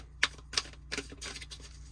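A tarot deck gets a quick hand shuffle: three distinct snappy card flicks close by, then a softer, longer riffling rustle, with no speech over it.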